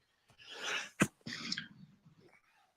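One sudden, forceful sneeze, preceded by a breathy inhale and trailing into quieter murmuring, heard at moderate distance.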